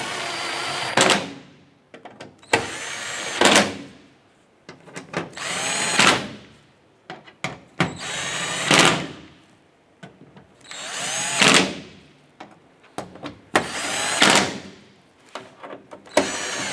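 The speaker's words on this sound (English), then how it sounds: "Once we have all our screws in, let's go ahead and snug them all down." A power drill snugs down the screws on a rear-view camera cover of a 2011-2018 Ram truck, sounding in about eight short whirring bursts that ramp up and cut off in a steady stop-start rhythm, close and clear.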